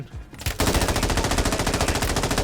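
Rapid automatic gunfire in the video game Warzone, a sustained burst of fast, loud, evenly spaced shots that starts after a short quiet lead-in and holds to the end.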